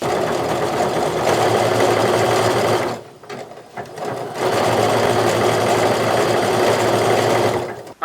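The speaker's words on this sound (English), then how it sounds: "that's the edge that you want to make sure you're catching with the overlocking" An overlocker sews the edges of a knit sweater and fleece in a fast, steady mechanical hum. It pauses briefly partway through, then resumes loud and close before stopping at the end, with no talk.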